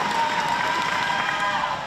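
Crowd cheering and applause for competitors at a kicking contest, a steady dense roar of many voices held at even loudness throughout.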